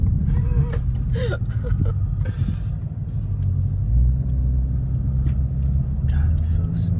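A 2020 Ford Mustang GT500 engine drones and rumbles steadily while driving on the road, a continuous low hum beneath ongoing conversation from people riding in the car.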